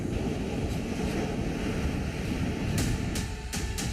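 Rough, continuous roar of surging ocean surf mixed with wind during a cyclone off the Gujarat coast, loud and close, with a few sharper splashes near the end.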